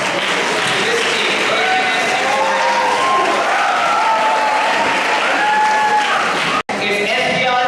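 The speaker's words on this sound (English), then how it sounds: "I really want everyone to give a huge round of applause to this team" A school audience claps steadily for the winning team at a math event, broad sustained applause with voices calling over it, then a brief cut near the end.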